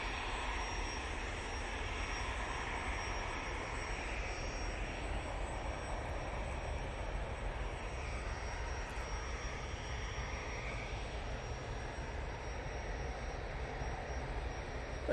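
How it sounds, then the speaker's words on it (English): An Embraer Praetor business jet comes in to land, its engines producing a steady, moderately distant whine and rumble that holds evenly throughout with no voices over it. "beautiful Embraer Praetor coming on in front of us"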